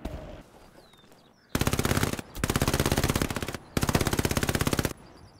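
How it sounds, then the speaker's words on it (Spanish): Three long bursts of MP40 submachine gun fire in the World War II shooter Hell Let Loose, loud, rapid and close, each lasting about a second or more with brief gaps between, following a quieter stretch. "nos disparan MP40, parte izquierda"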